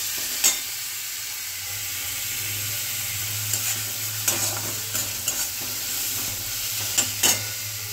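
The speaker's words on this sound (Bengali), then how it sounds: "মশলাটাকে আপনাকে মিডিয়াম ফ্লেমে ভালো করে ভাজতে হবে যতক্ষণ না কাঁচা গন্ধ যায় এবং তেল না ছাড়ে" Spice paste for a chicken curry being stirred and fried in a pan over a medium flame, with a steady soft sizzle and a few clinking stirs throughout.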